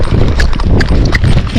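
A Tennessee Walking Horse canters in a riding lesson, its hoofbeats landing in a loud, close three-beat rhythm of sharp thuds, with no voices over it.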